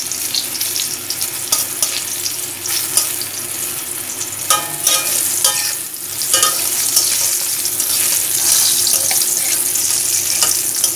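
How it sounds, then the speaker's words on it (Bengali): Pumpkin slices frying in a pan, a continuous crackling sizzle with occasional sharper spits and stirring scrapes, close and steady throughout without any talking. "এখানে কুমড়ো ভাজা হচ্ছে।"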